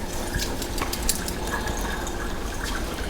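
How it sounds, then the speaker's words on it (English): Tap water runs while a bowl is rinsed in a kitchen, a steady close splashing stream with small drips and clinks and no voices. "now I might just give that one a quick rinse"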